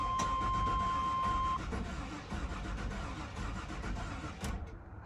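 A Chevy 454 engine in an old OBS tow-rig pickup cranks on its first start after a fuel injector install, a loud, steady mechanical churn that runs about four and a half seconds before cutting off abruptly.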